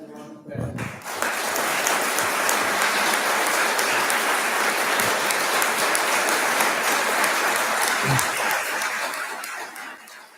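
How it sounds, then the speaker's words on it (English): Audience applause at a Memorial Day ceremony, a loud, steady round of clapping that swells quickly and holds for several seconds before tapering off, with a little talk at the start. "please join me in a round of applause for Mrs. Julie Ryan at the Ryan bed."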